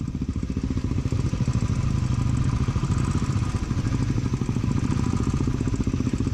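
Motorcycles ride on an insanely slippery road on a trek route in North-East India, their engines holding a loud, steady, chugging drone throughout with a rattling texture.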